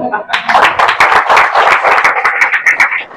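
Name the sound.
church congregation clapping hands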